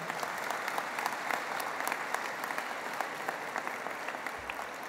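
An audience in a concert hall at a Brisbane music event breaks into steady, moderately loud applause, a dense patter of many hands clapping continuously.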